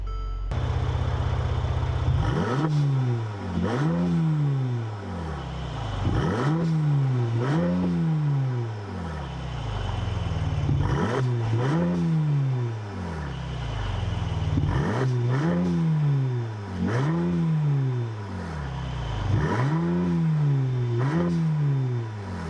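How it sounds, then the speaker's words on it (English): The 3.0-liter bi-turbo V6 of a 2017 Mercedes-Benz SL450 is revved again and again, each exhaust blip rising and falling in a steady rhythm of about seven pulls, close and loud with no talk. "Let's start up the 3-liter bi-turbo V6 of the SL450 and hear how its exhaust note"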